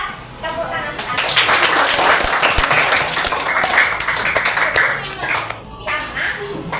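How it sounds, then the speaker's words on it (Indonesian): A school audience, children among them, breaks into loud, sustained clapping that swells quickly, holds for several seconds and then tapers off, with a few voices mixed in beneath. "Hebat ya, tepuk tangan sekali."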